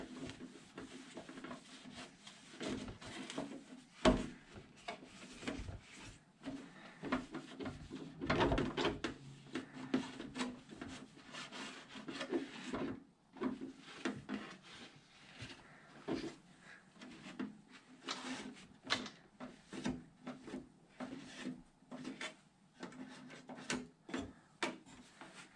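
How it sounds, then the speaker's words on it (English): Parts of an Arrma Limitless RC car are wiped down by hand, with soft, quiet rubbing and scuffing strokes repeating irregularly at close range. "So I'm just giving it a quick little wipe down, just to try to keep the dirt to a minimum."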